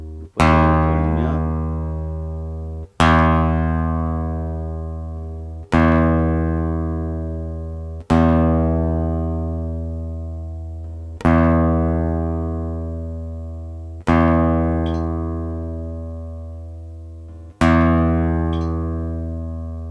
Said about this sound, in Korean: 소리가 나면서 줄이 맞춰졌다는 것을 알려주는 편리한 앱입니다